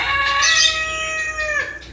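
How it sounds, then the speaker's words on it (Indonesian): A rooster lets out one loud, close, sustained crow that holds a steady pitch before dropping off at the end, ringing out alone over a faint background. "Tuh si jagonya, jago aku tuh kayaknya tahu kalau aku lagi ngobrol atau lagi ngevlog, langsung aja keluar moni."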